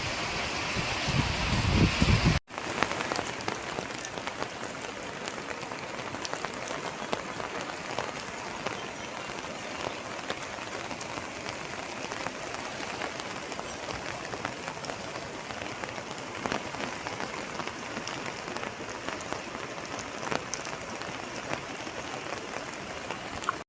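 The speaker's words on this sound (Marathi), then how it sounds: "अशा पद्धतीनं पाऊस पडतोय मित्रांनो" Steady, dense hiss of a cloudburst downpour in Nimbalak village, pouring continuously, with a brief louder burst at the very start.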